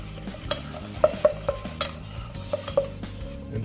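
A spoon scrapes and taps repeatedly around the bottom of a cake pan, mixing brown sugar and butter for a pineapple upside-down cake. The clinks and scrapes come in an uneven rhythm, close and clear, with no talking.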